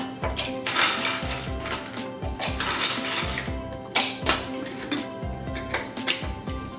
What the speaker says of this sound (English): and your ice cubes.